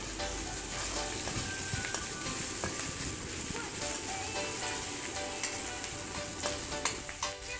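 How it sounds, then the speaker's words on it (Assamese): Onions with dried red chillies fry in a pan on a medium-high gas flame for an egg curry, with a continuous close sizzle and occasional clinks and scrapes of stirring. "পিঁয়াজখিনি অকণমান ৰঙচুৱা হোৱালৈকে ভাজি থাকিম"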